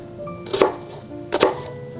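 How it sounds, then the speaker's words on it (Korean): A kitchen knife cuts through an onion on a cutting board with two crisp, evenly spaced chops, close and clear over quiet background. "양파를 썰어 주겠습니다"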